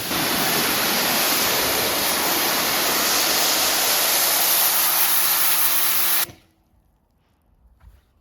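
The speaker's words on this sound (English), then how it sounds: "Just testing the pressure washer real quick." A pressure washer spraying water makes a loud, steady hissing rush that runs for about six seconds before cutting off abruptly, leaving faint background noise.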